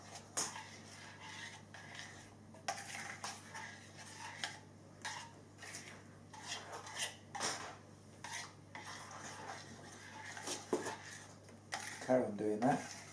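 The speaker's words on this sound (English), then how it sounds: "Just carry on mixing it until the chocolate melts" Chocolate being mixed as it melts in a bowl for a Christmas log cake, quick repeated scraping and clinking of a utensil against the bowl, close, with soft talk running underneath.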